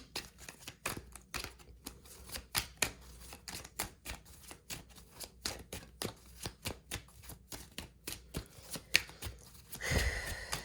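A deck of tarot cards is shuffled by hand in a quiet room, with repeated crisp riffling flutters and soft taps at close range and no talking.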